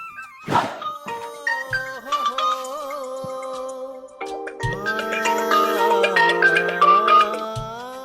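A phone ringtone plays as a melodic electronic tune with layered synth tones and a bright opening hit, rising fuller partway through, alone with no talk, as a sister calls her brother on Raksha Bandhan.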